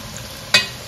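Garlic and a chicken stock cube go into a hot pan and give a quiet sizzle, then a sharp brief burst of frying or stirring about halfway through.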